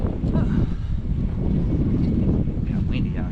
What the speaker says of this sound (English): It's kind of windy out here too.